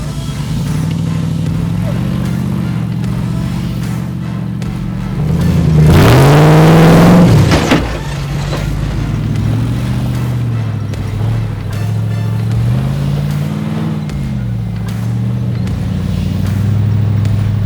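A Jeep engine labors and revs on the steep Rocker Knocker climb in Pritchett Canyon, with a sharp surge in revs midway before it settles back into a steady low drone, close and loud.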